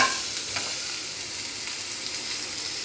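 Ground spice paste for rasam fries in hot oil with dried red chillies, urad dal and fenugreek, giving a steady, close broadband sizzle with faint stirring scrapes throughout, no voices.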